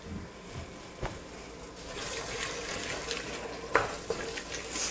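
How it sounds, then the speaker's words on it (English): Steady, hissing sizzle of gumbo frying in a pot, with occasional light clinks of a utensil stirring against the metal. "You can probably hear it sizzling up there."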